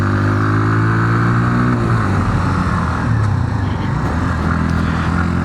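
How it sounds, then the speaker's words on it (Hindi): A Hero Glamour X 125 motorcycle engine revs up and shifts, its droning pitch climbing then dropping before settling into a steady rumble while riding. "बाइक को एक डिसेंट स्पीड में लेके जाते हैं"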